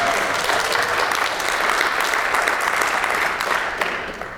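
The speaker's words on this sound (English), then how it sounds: "Let's give them again a huge round of applause." An audience at a candidate forum breaks into sustained applause, a dense, even wash of clapping that holds steady throughout, filling the room with no voices standing out.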